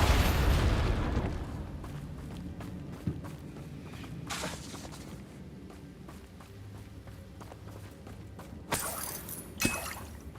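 Confringo fire spell explosions in the Hogwarts Legacy video game: a loud blast opens, followed by scattered impacts and bursts with footstep-like movement, and another sharp burst near the end.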